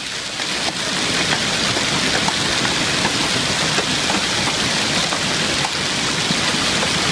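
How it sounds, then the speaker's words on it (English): Heavy hail pounds down during a storm in Denver, striking leaves and surfaces in a dense, steady roar with scattered sharper impacts, loud and continuous throughout with no voices. "Not only the hail coming down"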